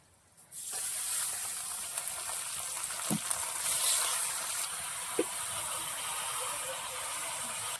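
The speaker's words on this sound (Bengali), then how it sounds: "পেঁয়াজ আমার ভাজা প্রায় অলরেডি হয়ে গিয়েছে এখন চিকেনটা দিয়ে দেবো বিরিয়ানির জন্য" Country chicken frying with onions for biryani over a wood-fired stove in a village kitchen, a steady close hiss with a couple of faint clicks partway through, no talking.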